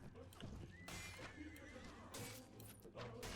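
A horse whinnies loudly in a Mount & Blade: Warband battle running the Perisno mod, with clip-clopping hooves and sharp crashing bursts around it.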